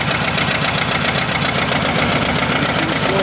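Xingtai 244 mini-tractor engine running close by with throttle raised, a loud, steady, rough diesel-like chugging drone throughout.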